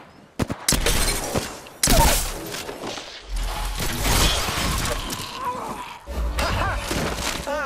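Apex Legends gunfire, dense rapid shots crashing over one another with shattering impacts, loud and continuous for several seconds.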